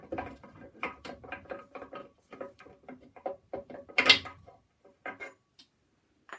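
Gears and lock tabs being pulled apart from a 1958 Rover car gearbox, a series of close metallic clicks, ratcheting rattles and clinks in irregular bursts with a louder clank midway, no speech.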